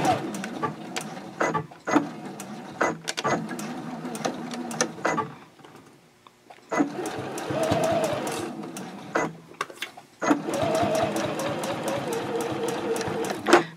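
A sewing machine runs a 1/4-inch seam at a 3.0 stitch length on a zipper case, in three bursts of steady rapid stitching separated by short pauses, close and fairly loud.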